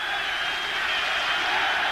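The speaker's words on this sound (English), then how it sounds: "Home crowd trying to pump them up" A dense, continuous roar from a football stadium home crowd cheering and urging on the home side at a Yugoslavia versus Macedonia Euro 2000 qualifier, steady and loud throughout with no distinct breaks.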